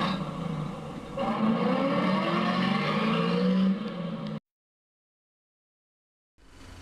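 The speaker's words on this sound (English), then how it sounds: "He slammed the door and they drove off." A lorry engine revs and pulls away close by for about four seconds in a children's model-railway scene, then cuts to silence before a faint rumble returns at the end.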